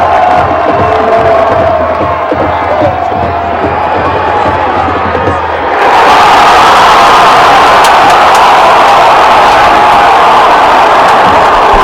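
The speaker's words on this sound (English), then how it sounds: "And I always say you can't hear the crowd in here. Boy, you can tonight." A high school football stadium crowd of thousands roars during a Massillon game, loud and continuous, swelling sharply into a bigger burst of cheering partway through, with an announcer's voice underneath at the start.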